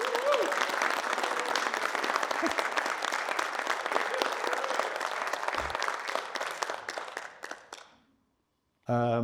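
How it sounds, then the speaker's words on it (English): A large crowd applauds loudly and steadily for several seconds, the clapping thinning and fading out near the end before a brief voice. "give Don a round of applause to appreciate many, many years"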